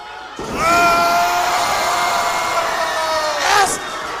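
Wrestling crowd roars and cheers after a slam at a tag team title match, a loud sustained swell of voices and whoops from a packed arena that rises near the end.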